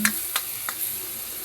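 Salted ampalaya, or bitter melon, gets stirred in a pan with a soft ongoing sizzle and three distinct scraping clinks of a utensil, close up and with no talk.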